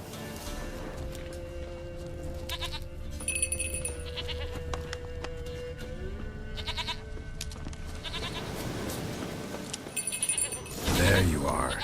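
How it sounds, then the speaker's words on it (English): A goat bleats in The Witcher III: The Wild Hunt, with short calls over continuous game ambience and background music. "Here, goat."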